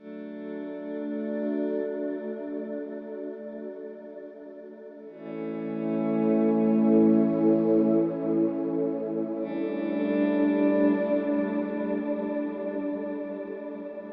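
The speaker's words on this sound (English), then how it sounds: "I've set to kind of like a swell ambient sound" Soft, swelling guitar pad with ambient effects, sustained chords fading in and blooming, shifting chords midway, smooth and atmospheric with no talking.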